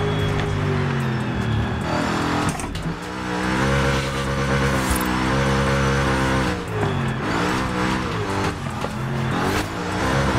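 BMW M4 G82 drift car in Forza Horizon 5, swapped to a 4.0-litre V8, roars continuously with loud revving and shifting engine tones, the pitch rising and falling as it slides, with brief tire squeal.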